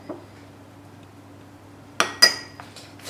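Utensils clink sharply against a bowl while low-carb granola is stirred, with a few distinct knocks close by against a quiet background.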